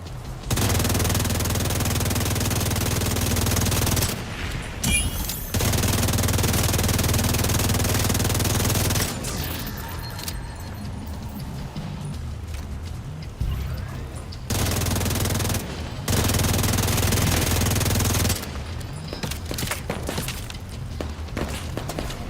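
Bursts of automatic enemy gunfire in The Division 2 on Master difficulty, a dense rattling fusillade in several long volleys separated by brief lulls, loud and close throughout.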